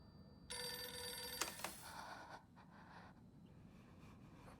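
A telephone rings once in Silent Hill f, a bright trilling bell burst lasting about a second, then fading into faint clicks and quiet ambience.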